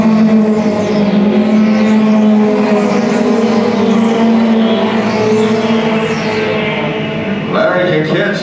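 Mini stock race cars, including a Ford Mustang, roar around the Coastal Plains Raceway track, a loud continuous layered engine drone with pitch sweeps as cars pass, shifting near the end as another car closes in.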